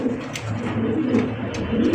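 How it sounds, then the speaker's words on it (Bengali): Indian Bombay pigeons coo in a low, continuous murmur, several birds overlapping steadily at close range with no talk. "ইন্ডিয়ান মুম্বাই কবুতর পাইতেছেন।"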